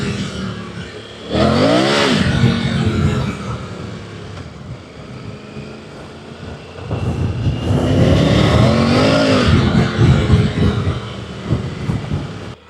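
A 2025 Triumph Tiger 900 Rally Pro motorcycle spins its rear wheel, loud and close: the engine surges and revs twice with rising pitch, separated by a quieter idle stretch, with no talking.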